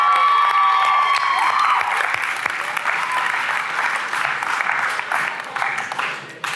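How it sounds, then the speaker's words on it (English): Loud, sustained applause from a church congregation fills the space, with dense steady clapping, a few cheers mixed in and some crowd voices underneath, slowly tapering near the end. "Give God a round of applause"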